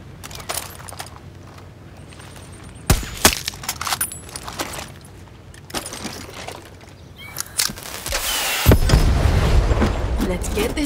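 Explosions in Far Cry 6 gameplay: scattered sharp bangs and pops, then a loud heavy boom near the end that rolls into a sustained rumble, with game voices in between.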